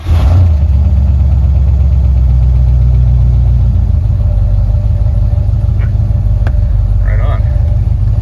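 A 1960 Buick Electra 225 engine runs loud and close, a deep steady idle rumble throughout with faint clicks and a brief voice near the end.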